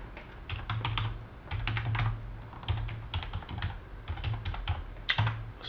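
A login password is typed on a computer keyboard in a steady, close stream of rapid keystrokes with short pauses, with no voices.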